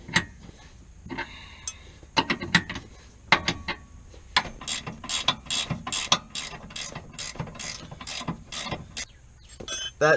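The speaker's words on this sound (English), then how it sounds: "You just tighten down the bolts same way as before." An Allen key ratchets bolts tight on a Mazdaspeed 3, with irregular clicking at first, then a quick, even series of close, sharp ratchet clicks.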